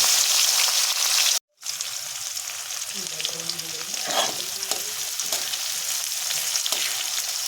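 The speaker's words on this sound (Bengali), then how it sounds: "পেঁয়াজ কুচিটা দিয়ে আমি ভালো করে নাড়াচাড়া করে নেব।" Chopped onion stirred through hot oil with cumin seeds sizzles steadily, with a brief dropout near the start and soft scraping of the spoon against the pan mixed into the continuous crackle.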